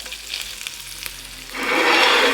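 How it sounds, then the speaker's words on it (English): Lobster tails searing in a pan for a surf and turf: a low background crackle suddenly rises into a loud, dense, close sizzle that holds to the end. "we don't want to over season them yet either, because we want to get that good sear on the bottom"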